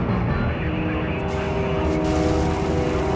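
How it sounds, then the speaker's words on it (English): Steady, loud droning engine with a low rumble and whirring blades, a helicopter in the firefighting game Fire Captain hovering close and continuous throughout. "The criminals are trying to escape by helicopter."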